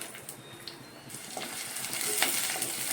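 Onions sizzling and frying in two spoons of hot oil in a clay pot, a steady bright hiss with faint stirring clicks that builds gradually louder, close by with no voices.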